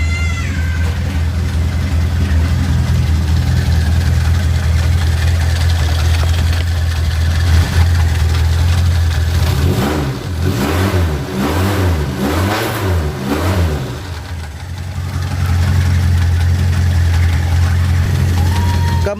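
A Suzuki Katana car engine idles steadily after an ignition timing adjustment, then revs up and down in a few rising and falling sweeps before settling back to a smooth, loud, close idle.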